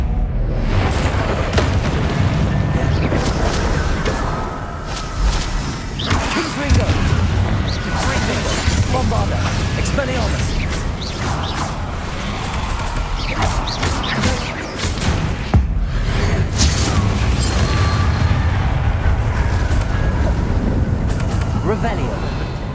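Booming blasts and crashing impacts from spells in the Hogwarts Legacy video game follow one another in dense, loud bursts over a steady rumbling game soundtrack, with a voice talking over part of the action.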